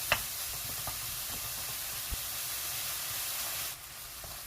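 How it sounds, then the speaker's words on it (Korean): Meat stir-fried in a pan and stirred with a spatula while making Vietnamese rice-paper rolls: a steady soft sizzling hiss with an occasional light knock of the spatula, no voices. "고기가 골고루 잘 익을 수 있게 주걱으로 잘 저어주세요. 계속 볶아줍니다."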